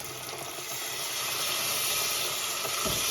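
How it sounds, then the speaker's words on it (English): A kettle boiling: a steady, broad hiss of steam rushes continuously, like water coming to a rolling boil, with no voices. "While the kettle's boiling"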